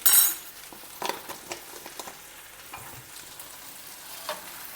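Sabji masala being stirred into cooked brinjal in a pan, with a steady soft sizzle under scattered scrapes and taps of the spoon against the pan, close and moderately quiet.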